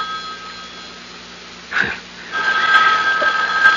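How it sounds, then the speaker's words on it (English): A telephone rings in a radio mystery drama, a short burst of bell tone followed by a longer, louder continuous ring, fairly close, with no voices over it. "The phone."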